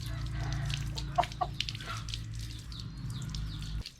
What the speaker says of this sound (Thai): ไก่ไม่จะดิ้นหน่อยนะครับไก่ใหม่ครับตัวนี้